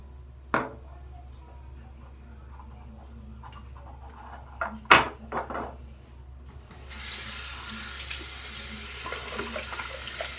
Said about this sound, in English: I'm going to put a little bit of water here in my brush.